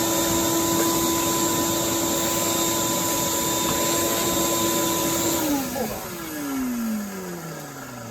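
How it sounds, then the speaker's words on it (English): A shop vac runs continuously inside a VW bus under restoration, a loud steady whine with a constant hum that drops in pitch and winds down near the end as the motor is switched off. "I think I'm gonna get the shop vac out and just vacuum the shit out of everything."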